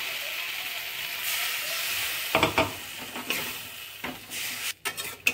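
Tangra fish with fried brinjal sizzling in a pan as a little water goes in, a steady frying hiss broken by sharper spits and crackles and a few clanks of stirring, with no talk.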